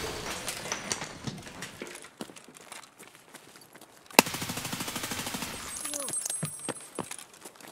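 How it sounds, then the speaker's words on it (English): Rapid automatic gunfire from the Escape From Tarkov video game, with one sharp shot followed by a steady burst of rounds and scattered shots around it, while voices talk at moderate volume. "There's someone shooting at me across those other apartment buildings straight across, like, the playground."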